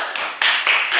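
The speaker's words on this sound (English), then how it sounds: "Oh, you don't need to clap for me" An audience claps in a steady wash of applause, with sharper clusters of claps about every quarter second. The sound is fairly close and full and carries no voices.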